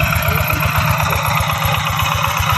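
Farm tractor engine running steadily up close, a loud continuous low rumble with a regular chugging pulse and no talk over it.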